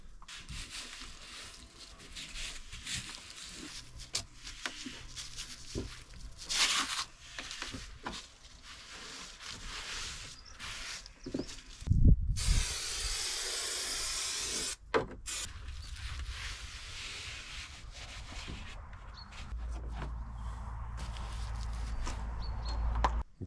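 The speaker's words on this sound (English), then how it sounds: "Just need cutting the edges, trimming it off." Carpet edges are trimmed off by hand inside a Ford Transit Custom camper van build. Quiet scraping and rubbing come in intermittent strokes, with a longer louder cutting or tearing rasp midway and a low rumble near the end.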